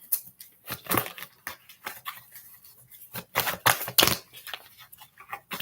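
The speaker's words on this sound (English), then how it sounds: "Shuffle again." Tarot cards are shuffled close by in quick, crisp riffling bursts and soft slaps, arriving in irregular clusters with short gaps between them, with no voices heard.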